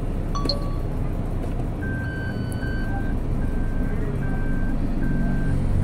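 Reversing beeps from a 2020 Toyota Rush: a steady series of evenly spaced electronic tones over a constant low vehicle and road rumble.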